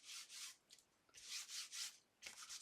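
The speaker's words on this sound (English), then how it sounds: "I am just going to rub it across lightly so it picks up the embossed" Paper card rubbed lightly across an embossing folder: soft, close scratchy strokes in a few bursts with short pauses between them.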